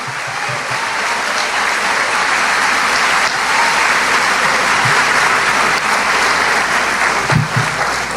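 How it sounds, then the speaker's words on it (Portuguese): A large congregation at an evangelical church service applauds continuously, loud and sustained throughout without pause. "Você pode aplaudir a Ele."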